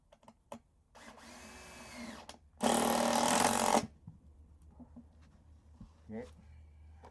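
A power drill drives screws during a repair job in one loud, roughly one-second burst, with quieter handling noises and voices before and after.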